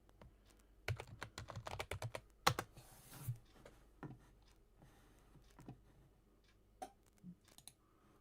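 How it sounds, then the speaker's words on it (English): Someone types on a computer keyboard in quick irregular bursts of close clicks, with a sharper clatter of keystrokes early on and sparser taps afterward, no voices. "I'm gonna see if I can type this properly."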